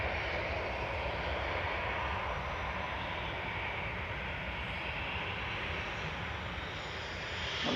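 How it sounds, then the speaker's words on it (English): A Ryanair Boeing 737-800 jet takes off from Manchester Airport for Brussels with a constant, broad roar of engine noise that stays dense and even throughout, heard alone with no talking. "That was Ryanair off to Brussels. 737-800 EIDCX."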